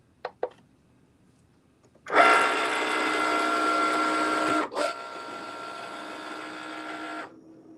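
Cricut cutting machine running a knife blade on material taped to a mat: two short clicks, then a steady loud whirring motor hum that stops briefly mid-way and resumes before cutting off.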